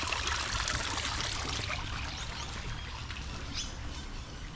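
Water from a fountain in an apartment complex garden trickles and splashes in a steady wash, with occasional faint bird calls above it and no talking.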